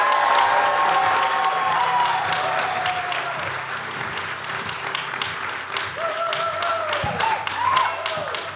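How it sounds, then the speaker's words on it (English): A conference audience claps steadily for several seconds, with scattered cheers and a few voices mixed into the applause. "By this time, you start clapping."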